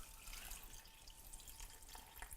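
Homemade vegetable stock pours into a pan of vegan curry, a faint, steady liquid trickle and splash lasting a couple of seconds with no talking.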